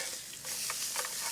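Lake trout sizzling in a frying pan as it is flipped, a steady bright crackle with a brief dip and then renewed sputtering and popping, close up and without speech.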